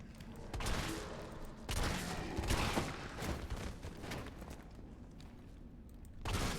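Shotgun blasts and gunfire in Resident Evil 3 Remake, several heavy bursts spaced a second or two apart over a steady background of game noise, with no talking.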